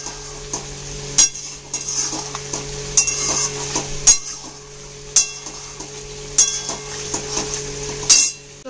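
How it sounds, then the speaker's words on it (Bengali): Spiced chicken being stirred and fried in a pan, with a spoon knocking against the metal roughly once a second over a steady background hum, close and clear, with no voices. "এবার ভালো করে এটাকে আবার একটু কষাবো"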